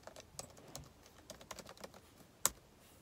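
Typing on a computer keyboard while searching an online classifieds site, heard as quiet, irregular key clicks close to the microphone, with one sharper, louder keystroke near the end and no talking.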